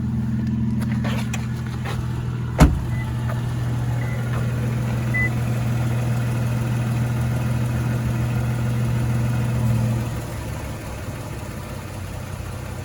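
A 2018 Toyota Tacoma TRD Off-Road with its 3.5 liter engine idling steadily outdoors, a low even hum held for about ten seconds after one sharp click, then cutting off and leaving quieter background.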